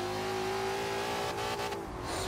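The Ford Pursuit's engine in Forza Horizon 3 screams near redline, a loud sustained high whine holding steady pitch, then breaking briefly as it shifts before revving again.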